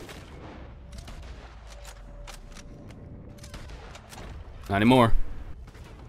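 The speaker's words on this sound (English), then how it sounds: "Why'd you try to shoot me with a shotgun from that far away?" A shotgun blast in Red Dead Redemption 2, one loud close boom near the end, preceded by faint distant shots and someone talking over the game sounds.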